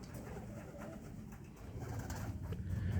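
Soft, low pigeon cooing close by, a steady murmuring coo that continues through the whole stretch without any talking.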